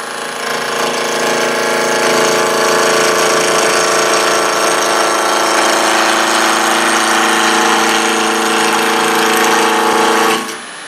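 A wood lathe runs continuously as a gouge rides the bevel along a spindle to turn an even cylinder, giving a loud, steady humming drone with a harsh cutting rasp that cuts off abruptly near the end.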